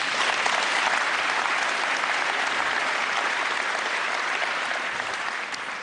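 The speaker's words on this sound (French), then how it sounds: "ça mérite aussi quelques applaudissements" An audience at the Talents des Cités 2014 awards ceremony applauds steadily, with dense, even clapping that stays loud throughout and eases slightly at the end.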